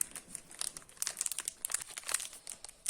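Crinkly foil of a Pokémon card booster pack being torn and crumpled open, a run of sharp bright crackles and rustles coming close and fairly loud, with no talk.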